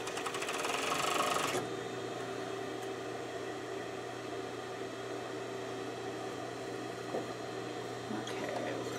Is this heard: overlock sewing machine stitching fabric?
yes